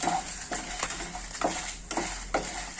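Coriander seeds frying in a pan for a stuffed brinjal curry, heard as soft repeated stirring scrapes and light sizzle at roughly half-second intervals, quiet and close, with no speech.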